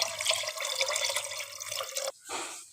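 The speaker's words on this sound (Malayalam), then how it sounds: "ഇതാ പിന്നെ ഞാൻ അതിലേക്ക് കുറച്ച് വെള്ളം കൂടി ഒഴിച്ചു കൊടുക്കാം" Water pouring steadily into a pot of rice for cooking, a continuous splashing gush that stops abruptly, followed by a brief softer trickle.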